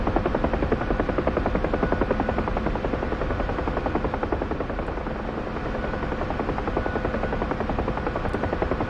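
Steady, loud rotor thump and turbine whine of a UH-1H Huey helicopter running in the DCS World flight simulator, continuous and even throughout with no talk.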